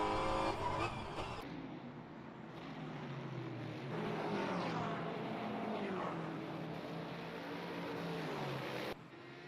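GT3 race cars lapping Mid-Ohio in a racing video game, engines droning steadily with rising and falling pitch through gear changes, a continuous close roar that cuts off abruptly near the end.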